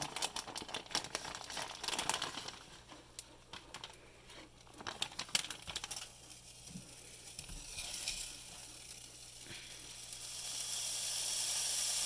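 Eggs and cheese sizzling and frying in a pan for an omelette, a steady soft crackle with occasional crinkling and stirring clatter, the sizzle rising toward the end.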